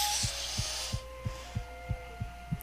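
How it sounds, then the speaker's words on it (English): A heartbeat sound effect from the war video game 1916: The Unknown War: eight evenly spaced low thumps in steady rhythm over a constant hum, with faint tonal game sounds fading above. "Is that my heartbeat?"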